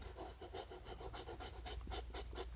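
A soft bristle brush rubs back and forth over a suede and canvas Calvin Klein shoe, giving close, quiet, rhythmic scratchy strokes at a quick even pace.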